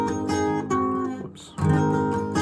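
A guitar picks out the melody of a song, a few sustained notes sliding up the neck, one brief break near the middle, played solo and close.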